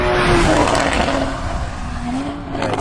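A Porsche Cayman race car sweeps through a fast kink at Carolina Motorsports Park, its engine loud and close, the note shifting pitch as it carries speed past.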